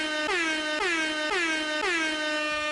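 Four loud, rapid air horn blasts in a row, each a bright, brassy tone that dips slightly in pitch as it sounds.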